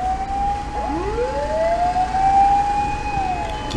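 A fire truck siren wails nearby in Japan, its pitch sweeping up and down in long rising and falling tones over a low traffic rumble.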